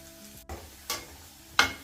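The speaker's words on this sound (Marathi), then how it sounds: "जर्दाळू छान तळले गेलेत" Dried apricot pieces frying in a pan for dry-fruit laddoos, a soft steady sizzle broken by three brief scraping stirs of a spatula at roughly even intervals, close up with no talk.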